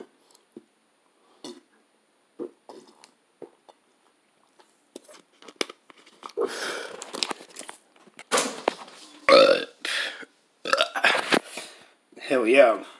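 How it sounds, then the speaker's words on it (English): A man burps after eating Pasta Roni, a short throaty belch among scattered mouth noises, followed by his close talking. "Nice little burp."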